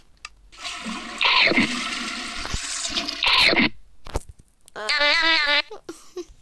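A toilet flushes in the Roblox game Get Eaten in a long watery rush with a brief tonal wail near the end, loud and close, no talking.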